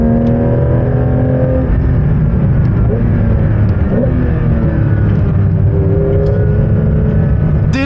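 Inside a Porsche 911 GT3 on the move, loud, constant engine noise fills the cabin, with its pitch rising and falling as the revs change. Road and drivetrain rumble sit underneath, and no one talks.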